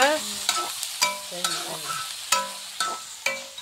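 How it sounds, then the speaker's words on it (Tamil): Tomatoes sauté in a hot pan for kotthu parotta while a utensil stirs and scrapes against the metal in quick, repeated clanks over a light sizzle, close and clear. "இப்போ வந்து தக்காளியை வந்து நல்லா வதக்கிட்டு பார்க்கலாம்."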